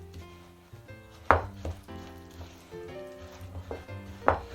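A spatula scrapes and thumps through sticky flapjack mixture and syrup in a bowl, a few sharp knocks and soft stirring strokes close up against faint background music.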